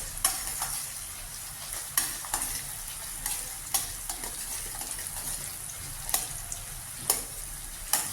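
Coriander seeds, chana dal and cumin fry in a pan for ginger chutney, making a continuous close sizzle with sharp scraping stirs at regular intervals.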